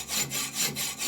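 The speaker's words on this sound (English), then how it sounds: "Most hacksaw blades cut sideways." Hacksaw cutting through metal while machining a big-bore motorcycle engine cylinder, three or four close, even rasping strokes in a steady back-and-forth rhythm.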